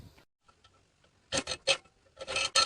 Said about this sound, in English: just with my hacksaw that has a metal cutting blade on it, I'm just going to start cutting away at that